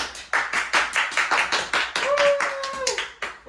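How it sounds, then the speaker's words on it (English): A small audience claps at an Air Force quarterly review event, distinct, closely spaced hand claps in a near-regular pulse, with a high whoop or whistle rising over them partway through. "Can you get a round of applause?"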